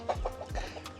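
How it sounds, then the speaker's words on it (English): Chickens of a local Hiroshima breed clucking on a farm in Japan, a few short calls in quick succession close by, with no talk over them. "And over here we have our chicken."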